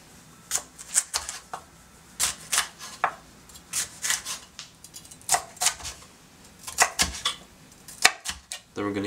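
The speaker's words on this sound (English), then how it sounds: "Then we're going to continue chopping our red peppers up into half-inch pieces and set aside." Knife dicing rinsed red bell peppers into half-inch pieces on a cutting board, a run of sharp, close taps in an irregular rhythm, loud and clear with no talk.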